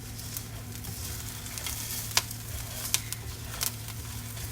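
Rice toasting in a frying pan, a steady bright sizzle with a low hum behind it and a few sharp clicks of stirring, close and continuous.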